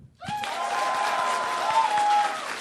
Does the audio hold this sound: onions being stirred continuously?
no